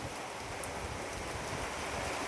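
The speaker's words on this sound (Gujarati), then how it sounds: "બહુ વરસાદ સારો પડી રહ્યો છે" Heavy monsoon rain pours down in Gujarat, a dense, steady broadband hiss that holds at an even level throughout with no pauses and no voices.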